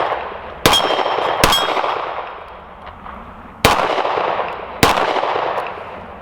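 A Taurus Model 85 .38 Special five-shot revolver fires remanufactured ammunition double action at steel plates, four loud, sharp reports spaced irregularly across the span, each with a ringing metallic tail as rounds strike the steel.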